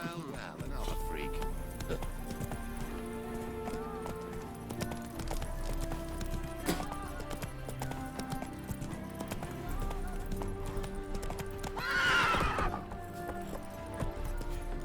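Roach the horse gallops with steady clip-clop hoofbeats and a brief whinny in The Witcher 3, set against a continuous game music score with people talking over it.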